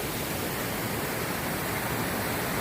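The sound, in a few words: waterfall flowing after heavy rain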